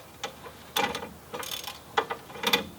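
Ratchet wrench clicking in short, quiet bursts while working on a driveshaft skid plate, with several separate runs of rapid clicks and brief pauses between them.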